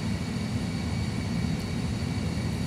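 A320 jet engines spooling at takeoff (TOGA) thrust in a full flight simulator, a steady loud broadband roar with strong low rumble that holds evenly throughout.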